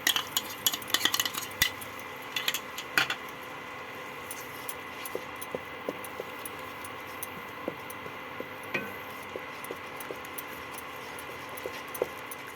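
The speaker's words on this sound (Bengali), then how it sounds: "এবার এই টক দইটা আমি এর সঙ্গে দিয়ে দিলাম" Sour yogurt being stirred into eggplant in a pan for a vegetarian curd-eggplant dish. Light, scattered spoon taps and scrapes recur over a steady background hiss, close and fairly quiet.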